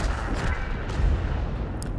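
A heavy tank cannon shot in World of Tanks booms with dense low-end roar, followed by sustained battle noise and rumbling throughout.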